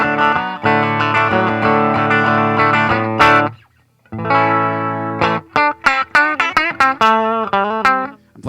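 Bright, twangy chords from a Fender Classic Series Baja 60s Telecaster on the bridge pickup through a Fender 65 Deluxe Reverb reissue, then a short pause, followed by quick plucked notes and choppy chords, close and fairly loud.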